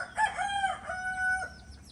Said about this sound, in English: they have many chickens around this place